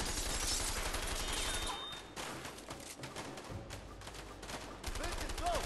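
Gunfire from the video game A Way Out comes in bursts of rapid, cracking shots with thuds, dense at first, then thinning into scattered reports before picking up again.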